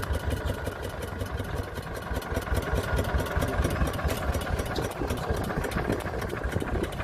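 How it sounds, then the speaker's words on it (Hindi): A 1981-model Eicher tractor engine idles in steady, close, loud thudding pulses with a rattling mechanical texture, running continuously without a break. "बंद कर दो भाई ट्रैक्टर।"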